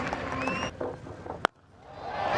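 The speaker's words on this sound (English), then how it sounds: "And that has brought the crowd back to life" Cricket crowd at a Scotland versus Australia match cheering and clapping, a broad wash of noise under a commentator's voice that cuts off briefly after a sharp knock, then swells again toward the end.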